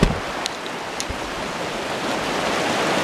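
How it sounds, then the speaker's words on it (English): The Baptism River rushes along a hiking trail near Lake Superior, a steady broadband roar of flowing water, close and continuous, with no voices. "This is the Baptism River we've been hiking on."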